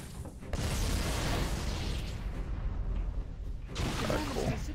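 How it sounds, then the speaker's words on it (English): Heavy, booming explosions in Halo: Combat Evolved roar in succession, with a sharp burst at the start and another blast near the end. "Stay way back here because the door is not holding those explosions back."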